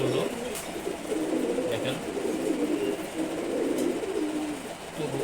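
Male pigeons coo in repeated low, throaty rolling calls close by, with a brief spoken word over the birds.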